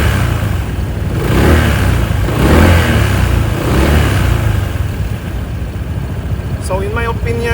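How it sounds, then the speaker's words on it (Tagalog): Honda ADV160 scooter engine revving, a loud steady mid-pitched drone swelling in a few throttle blips, close to the rider. "So this is how it sounds like with your engine sound"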